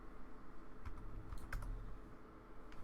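Someone types on a computer keyboard: a few soft, scattered keystrokes at moderate distance over a steady low background hum, with no talking.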